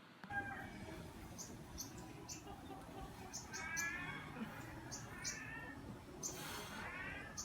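A cat meows several times, faint and somewhat distant, in short drawn-out calls over a quiet outdoor background with chickens nearby.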